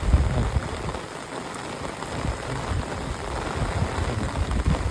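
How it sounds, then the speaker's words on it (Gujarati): Torrential rain pours down in a village at Botad, a thick, constant hiss of drops hammering nearby surfaces with small swells in loudness. "મસ્ત વરસાદ પડે મિત્રો જોરદાર"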